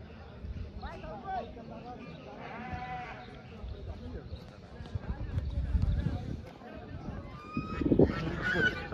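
A goose honks at a farm near an animal market in New York, short nasal calls rising now and then amid bleating livestock and busy outdoor background, with people talking throughout.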